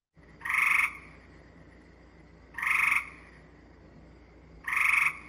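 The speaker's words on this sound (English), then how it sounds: "the gray tree frog with the whirring" Three loud, trilling gray tree frog calls, whirring and pulsed, each under half a second, spaced about two seconds apart, ringing out clearly over a quiet background hum.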